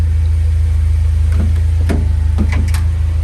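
Honda Civic Type R BTCC-style track car with a K24 engine idling steadily while warming up, a loud, even low rumble with a regular pulse and a few faint clicks over it, no talking.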